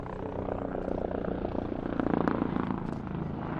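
An OH-58D Kiowa Warrior helicopter flies with a steady, dense rotor and turbine drone. The sound holds even throughout and swells slightly near the middle.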